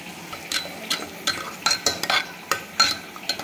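Cooked spinach and dal being mashed and stirred in a pressure cooker pot, a series of soft, wet scraping and clinking strokes at an irregular rhythm, close and fairly quiet with no talk.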